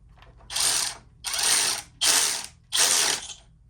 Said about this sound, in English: So I'm going to put a ratchet on that because I like to do it with the ratchet.